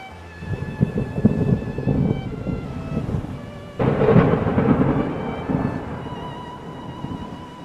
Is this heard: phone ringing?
no